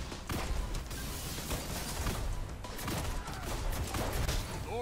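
Rapid gunfire from the Fever and Remedy Adept Hand Cannon in a video game, a dense run of heavy shots and game effects filling the whole stretch at steady loudness with no talk.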